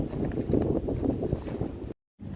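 Steady low rushing wind buffets the microphone outdoors in a sweet potato field, loud and continuous, with a brief cutout near the end before the gusting resumes.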